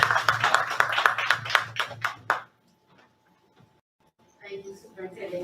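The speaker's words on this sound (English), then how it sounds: "applaud your students, applaud your children, and applaud yourselves" A short burst of dense applause at a school board of education meeting, fairly loud for about two seconds, then cutting off to near silence before faint voices resume.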